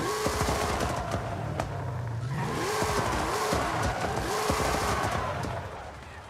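Rear tires spinning and squealing on a roughly 1700-horsepower car in Forza Horizon 5, a loud engine roar rising and falling with repeated skids and tire screech, continuous and close.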